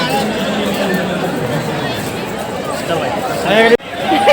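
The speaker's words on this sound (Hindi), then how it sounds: "हमने सोचा नहीं था आज इतनी भीड़ मिलेगी।" A dense crowd at Har Ki Pauri in Haridwar fills the air with continuous loud chatter, with nearby voices talking over the babble.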